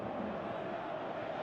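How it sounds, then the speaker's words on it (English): A stadium crowd cheers in the PES 2018 football video game during a Champions League match, a steady dense roar that holds at an even level throughout. "at least the crowd are appreciative of his efforts"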